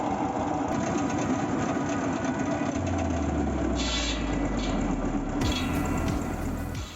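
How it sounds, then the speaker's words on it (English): A homemade firewood cutting machine driven by an old internal combustion engine runs steadily and loudly throughout, a dense mechanical roar with a low engine drone that deepens partway as the spinning cutting disc works through wood. "Using an old generation internal combustion engine, the cutting disc still achieves high speed and cuts wood sharply and cleanly."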